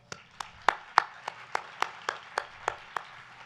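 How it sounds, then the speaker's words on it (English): Sparse, distinct hand claps at a commencement ceremony, about a dozen sharp slaps in a slow, even rhythm, moderately faint with no talk over them. "Please join me in applauding again our distinguished guests."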